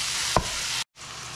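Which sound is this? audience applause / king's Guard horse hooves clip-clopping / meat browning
meat browning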